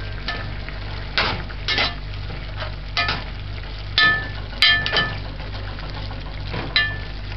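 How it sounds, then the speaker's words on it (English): Callaloo stirred in a cooking pot with a spoon, giving intermittent scraping and clinking strokes over a steady low background hum, with a few sharper knocks from the pot. "just stir it in."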